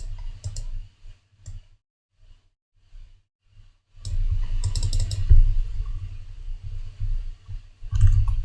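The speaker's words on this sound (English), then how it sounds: "Let's see if I can talk and type" Typing on a computer keyboard, close-up clicking in short bursts with pauses between, then a denser, louder run of keystrokes in the second half; no speech.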